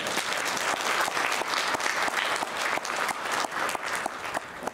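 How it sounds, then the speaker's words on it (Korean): A church congregation at a Korean revival service applauds the pastor, warm sustained clapping from a crowd filling the room for several seconds. "말씀을 뜨겁게 전해주신 목사님이 다시 한번 따뜻한 박수로"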